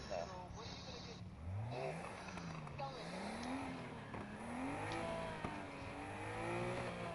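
A 2.6-litre inline-six engine in a video game revs and climbs through gears, the pitch sweeping up and down repeatedly with occasional tire squeal, while a person talks over it.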